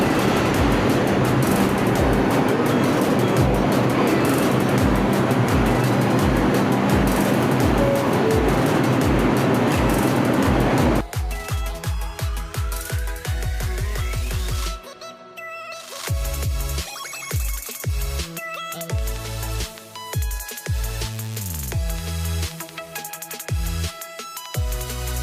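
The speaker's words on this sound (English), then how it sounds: "Oh, another 2 train." A New York City subway 2 train runs through Atlantic Avenue station, first as a loud, roaring rush of wheels and motors, then a quieter stretch of rhythmic clacks, squeals and hum as it slows.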